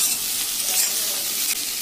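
Potatoes lightly frying in hot oil with onions in a pan, a steady, close hiss and sizzle over the whole short stretch, no talking.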